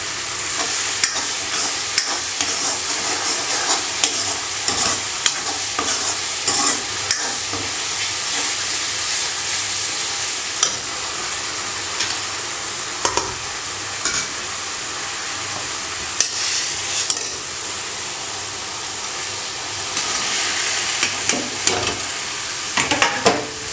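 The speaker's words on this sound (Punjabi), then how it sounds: "ਹੁਣ ਆਪਾਂ ਇਹਦੇ ਵਿੱਚ ਪਾਵਾਂਗੇ ਆਪਣਾ ਪਿਆਜ਼ ਤੇ ਆਲੂ ਜਿਹੜੇ ਫਰਾਈ ਕਰਕੇ ਰੱਖੇ ਸੀ" Previously fried onions and potatoes are stirred into simmering masala in a pan, producing a steady close sizzle and hiss with repeated scraping and clacking of the spoon throughout.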